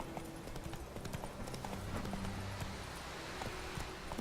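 Roach the horse trotting in The Witcher 3, a steady clip-clop of hooves at a brisk, even rhythm, close and continuous over low background sound.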